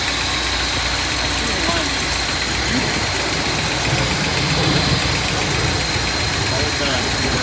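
A 1962 Dodge D200 pickup engine idles steadily with a freshly installed fuel pump to carburetor hardline, a constant close mechanical drone with slight vibration running the whole time while a person speaks over it.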